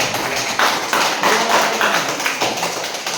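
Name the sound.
group applause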